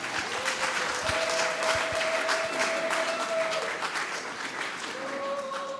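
A church wedding congregation claps together in steady, sustained applause that fills the room at moderate distance, with a few voices and sung tones drifting over it.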